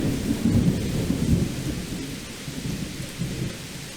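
Heavy rain pours steadily over the Thai countryside during the rainy season, with deep rolling thunder rumbling throughout; the downpour is loud, dense and continuous.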